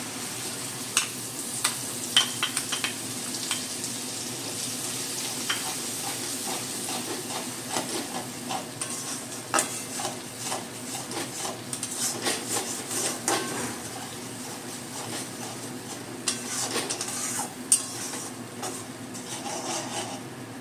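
Nigella seeds and a mustard, poppy seed and green chili paste fry in leftover fish-frying oil, a steady close sizzle with crackling pops scattered throughout, no talking.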